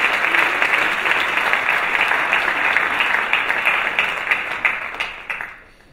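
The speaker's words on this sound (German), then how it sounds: "Lass uns sie mit einem herzlichen Applaus auf der Bühne begrüßen." A large audience at a charity Christmas Sunday event applauds warmly to welcome speakers on stage, steady dense clapping that fades out toward the end with no talking.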